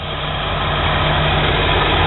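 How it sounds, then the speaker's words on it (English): A Ford truck's replacement engine, fitted with its old mismatched balancer and showing 105,000 miles, idles with a shake: a close, steady, low throbbing rumble, continuous and unbroken, with no voices. "That's why this motor shakes."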